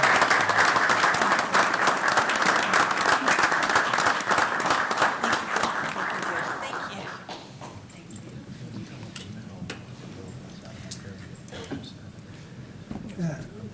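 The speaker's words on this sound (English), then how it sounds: "Let's give the foundation a round of" Audience at a Clearwater city council meeting applauds a foundation, loud sustained clapping for about seven seconds that fades into a quiet room with scattered claps and light murmuring.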